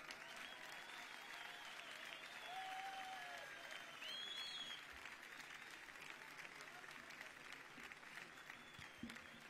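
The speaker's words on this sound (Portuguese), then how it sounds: "Um aplauso para o Ricardo." A live music audience, heard faintly and from a distance, applauds as a singer is introduced: sustained, even clapping with a couple of brief whistles partway through.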